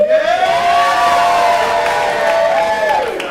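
Convention audience at a live cartoonist competition cheering and whooping loudly for cartoonist Tony, a sustained crowd roar with a long high whistle or shout rising over it, steady for about three seconds before tapering.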